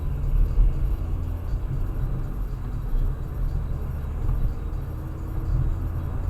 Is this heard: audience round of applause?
no